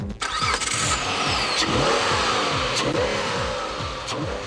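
A 2006 Mitsubishi Eclipse GT's 3.8-litre V6 cranks over with a rapid rhythmic starter churn, catches and settles into a loud, steady close-up idle.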